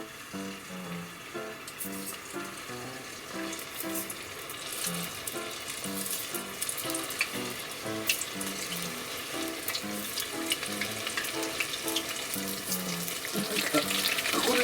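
Battered matsutake mushrooms coated in starch deep-frying in oil at about 180 degrees, giving a steady, dense crackle and sizzle with scattered sharp pops, continuous and close throughout.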